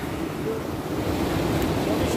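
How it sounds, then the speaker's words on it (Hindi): Water rushes steadily downward at a mountain lake, a continuous loud roar of flowing water with wind-like hiss and no breaks. "कैसे स्पीड से पानी नीचे को तरफ जा रहा है दोनों जगह से जी।"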